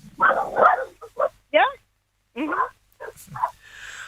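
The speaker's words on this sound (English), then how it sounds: "No, that's my dog." A pet dog barks and yips in short, close bursts, alternating with a person speaking nearby in a casual conversation.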